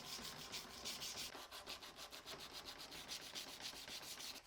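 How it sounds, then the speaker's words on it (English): Steel knife blade being hand sanded through grits, scale and discoloration scrubbed off: a steady, close rhythmic rasp of sandpaper strokes, about two per second, with no voices. "start hand sanding through different grits, and I'll take it up to 600"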